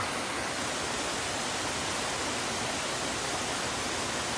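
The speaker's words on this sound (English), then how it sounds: "So here's the Zealand Falls waterfall." Zealand Falls waterfall pours nearby in a dense, unbroken roar of rushing water, loud and steady from start to finish with no voices.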